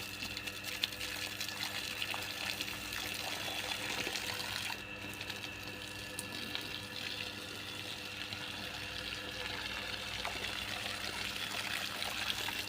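Steady water pours and splashes while a vegetable garden is watered outdoors, a continuous close hiss and trickle with little change over its length.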